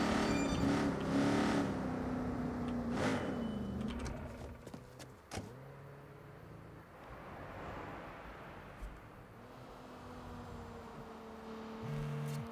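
A car driven in the video game Watch Dogs 2, engine noise rising and falling with revving and shifting, interrupted by a few sharp clunks and brief pauses, heard fairly quietly.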